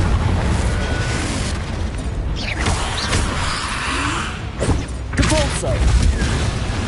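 Booming blasts of the Confringo spell rumble through a Hogwarts Legacy spell fight, with several thuds and bursts layered over dense game effects and a voice talking throughout.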